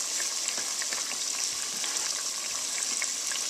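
Cinnamon twists fry in hot oil, a close, continuous bubbling sizzle with fine crackles that stays steady and even from start to finish.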